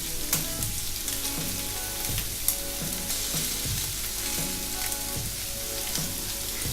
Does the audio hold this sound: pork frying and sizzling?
yes